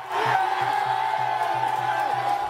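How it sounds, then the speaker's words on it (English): Protesters surge at White House barricades, with a crowd shouting and yelling in a dense, continuous roar and a rhythmic chant beating underneath, loud and close. "Crowds surge barricades, delivering fury to the president's front door."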